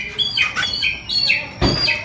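A Bali myna at a bird market lets out a run of loud, close, harsh squawks and whistled calls in three or four bursts, with no talking during the calls.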